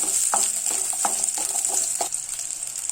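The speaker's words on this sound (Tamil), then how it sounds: "வெங்காயத்தை இதில் போட்டு இதையும் நல்லா வதக்கிக்கலாம் ஒரு 2 நிமிஷம்" Onions sauté in hot oil, a steady bright sizzle close by with several soft spatula knocks and scrapes spaced through it, no voices.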